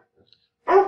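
A single dog bark, close and loud, cutting in abruptly after near silence.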